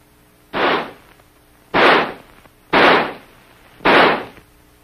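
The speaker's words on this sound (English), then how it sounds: "By closing the bolt and turning the selector lever to semi, the rifle will fire semi-automatically." An M16 rifle fires four single semi-automatic shots, each a loud sharp crack with a short decay, spaced roughly a second apart with quiet between them.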